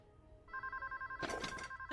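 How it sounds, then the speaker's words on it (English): Telephone ringing in the horror video game Bring Me: a rapid pulsing electronic ring starts softly, then grows louder with a burst of broadband noise midway, repeating steadily under a quiet room ambience. "Phone's ringing."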